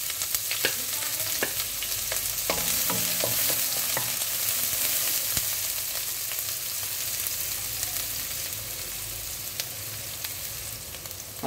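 Onions sauté in a hot pan for a beef and broccoli dish, giving a loud, steady sizzle and frying crackle with occasional sharp stirring clicks and scrapes close by. No one speaks.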